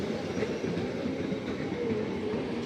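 A South Eastern Railway EMU local train passes close by with a steady, loud rush of wheels and rail noise and a faint squeal, the roar holding level throughout with no voices.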